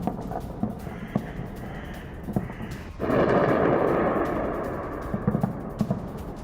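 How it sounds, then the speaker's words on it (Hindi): Explosions from a Hezbollah attack strike near an Israeli military base, heard as scattered thuds followed by a sudden heavy blast that rolls into a long rumble and slowly fades. "इजरायली बेस के पास एक के बाद एक कई विस्फोट हुए हैं हिजबुल्लाह की ओर से"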